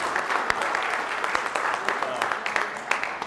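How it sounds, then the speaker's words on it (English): Congregation in a church breaking into a round of applause, steady dense clapping filling the room with a few sharper claps standing out near the listener. "So can we give everybody just a round of applause and thank you for what they do to serve us?"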